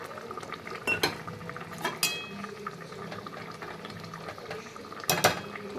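Frozen green peas tipped into a pan of simmering jackfruit curry, with a few sharp clinks and scrapes of a spoon against the pan over a low bubbling background, no talking.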